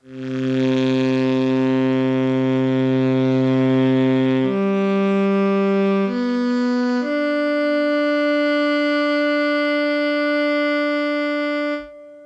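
Sampled saxophone long notes from the Sonixinema Saxophone Explorations library: a few loud, sustained, rich tones held one after another, shifting pitch between each, heard alone with no talk.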